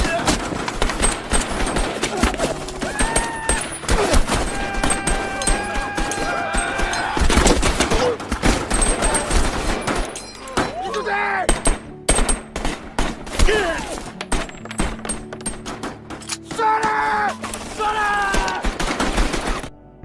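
Repeated bursts of rifle fire crack in rapid volleys, dense and loud, with shouting voices and tonal calls mixed among the shots.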